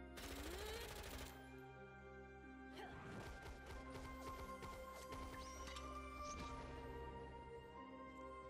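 Shotgun and sniper ability shots from the video game, Lost Ark, with Gunslinger and Devil Hunter classes, heavy blasts and sharp cracks with crashing impacts and ringing tonal effects, played back continuously over game background noise, with no talking.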